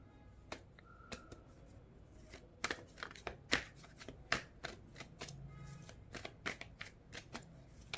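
A deck of tarot cards is shuffled close by, with a run of crisp riffling slaps and flicks in irregular bursts, some louder than others, and no talking over it.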